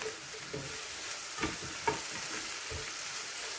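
Mixed mushrooms, shiitake among them, fry in a pan with a steady, moderate sizzle and a few clinks and scrapes as they are stirred.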